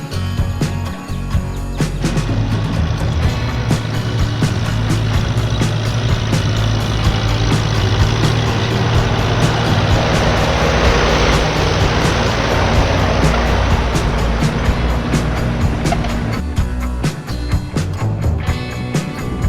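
Loud, rumbling Allis-Chalmers tractor engine runs steadily while hilling garden rows with an angled blade, a dense mechanical roar with clattering texture and a brief dip near the start and end.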